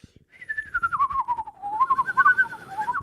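A man whistling a wavering, sliding tune alone, close and fairly loud, in a continuous melodic line lasting a few seconds.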